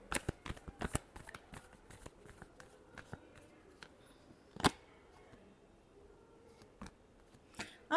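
A deck of tarot cards shuffled by hand, a series of sharp crisp riffles and flicks, close and fairly quiet, with a louder snap near the middle and pauses between bursts.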